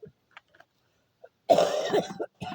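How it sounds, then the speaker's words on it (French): Following a few faint clicks and near silence, a close, rough cough rings out, with a brief second burst just after. "Décidément, j'ai décidé de tousser tout pendant la vidéo."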